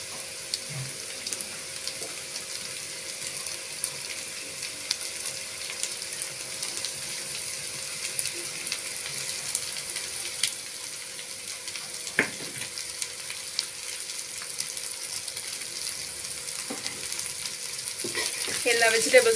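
Chopped vegetables stir-fry in hot oil for vegetable fried rice, a steady close sizzle with occasional clinks and scrapes of a spoon stirring the pan, continuing without a break.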